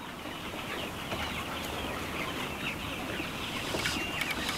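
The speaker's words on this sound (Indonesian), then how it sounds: "ayam petelur. Ini sudah berumur 8 minggu." A large flock of eight-week-old laying hens on a farm of ten thousand birds, clucking and murmuring continuously all around, with occasional sharper calls standing out.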